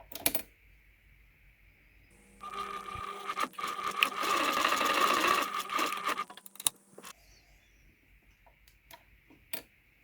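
A sewing machine stitches a face covering in one continuous burst of rapid mechanical chatter lasting a few seconds, framed by quieter handling clicks and taps before and after.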